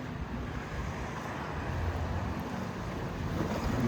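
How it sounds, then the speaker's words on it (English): Swell and waves wash through the sheltered water of Bridlington Harbour, a steady broadband rush with wind buffeting the microphone throughout, no speech. "quite a swell within the harbour itself"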